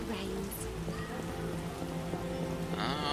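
Rain in the video game The Witcher, a soft continuous patter on surfaces under a low game music drone, fairly faint, with brief other game sounds.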